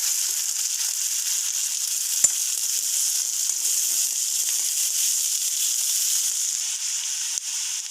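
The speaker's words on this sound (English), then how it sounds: "Fry the onions well in the oil for 2 to 3 minutes." Onions and curry leaves frying in hot oil give a steady, even sizzle with a bright crackling hiss that holds for the whole stretch. One short pop stands out partway through, and no one speaks.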